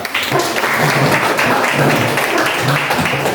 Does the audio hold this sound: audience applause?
yes